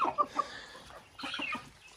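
A Bode breed rooster on a rainy smallholding gives a few short, soft clucking calls in two brief bursts, nearby and fairly quiet.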